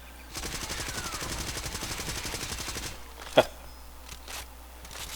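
A silenced assault rifle in Far Cry 2 fires one steady rapid burst of muffled, evenly spaced shots lasting a few seconds during a recoil test, followed by a single sharp click and quieter mechanical handling.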